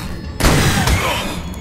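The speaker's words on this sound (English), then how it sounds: "Line up the speedy spyglass and boosh! Shoot him in the head." A single heavy gunshot boom in a video game while shooting a creature in the head, loud and close, with a second thump just after and a brief decaying tail.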